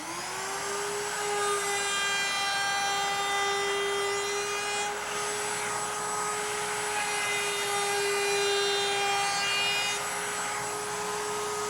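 Router table cutting holes in King StarBoard marine plastic with a half-round bit, a loud steady high whine with bright harmonics sustained evenly through the whole stretch, close and alone.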